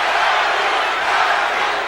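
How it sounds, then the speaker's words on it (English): Boxing arena crowd at a heavyweight bout chanting for the challenger, a dense, loud, sustained roar of many voices filling the space without pause. "Larry, Larry, the crowd very much in support of the challenger"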